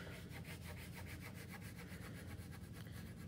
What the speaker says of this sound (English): I'm gonna draw my sand, draw my little cactus, just hanging out.